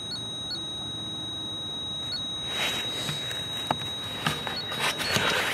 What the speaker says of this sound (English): Stop making a beep.